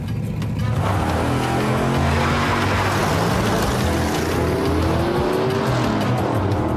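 A race car with inertia turbo engines roars close and loud in a continuous rush, engine pitch rising and shifting with tire noise throughout.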